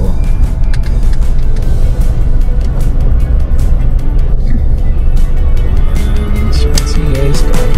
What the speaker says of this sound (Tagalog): Ganito ka traffic sa Baguio.